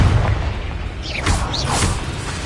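A deep boom of a Confringo spell explosion in Hogwarts Legacy, a low rumbling blast with whooshing sweeps layered over it, close and fairly loud for a couple of seconds.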